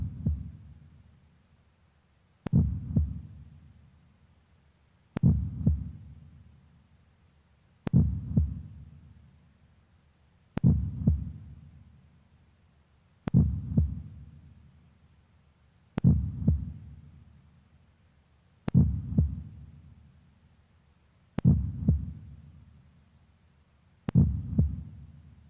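Slow, regular heartbeat of ten evenly spaced deep thumps, each a sharp low impact with a short booming tail, isolated and loud against near silence.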